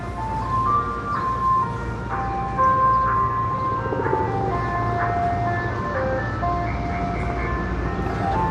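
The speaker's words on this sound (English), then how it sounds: "we can hear the ice cream jingle" An ice cream truck's jingle plays across the street on a New York City street, a steady looping melody heard at a moderate distance over continuous traffic and city hum.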